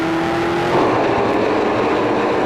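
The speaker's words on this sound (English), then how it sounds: "You can hear the motors hustling down the straightaway" Loud race car engine roar rushes past on a straightaway, a steady broad drone with a rising pitch as cars speed by.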